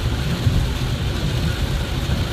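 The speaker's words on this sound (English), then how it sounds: "That is a lot of rain." Heavy rain pouring steadily outdoors, a dense, continuous low roar with no pauses.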